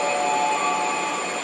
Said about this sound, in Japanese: 来ました来ました。 あれは浅草線5300系。